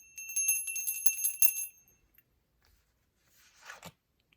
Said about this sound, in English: We can ring the bell a little bit.